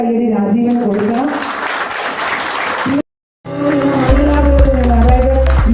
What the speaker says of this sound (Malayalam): നല്ലൊരു കയ്യടി രാജീവിന് കൊടുക്കണം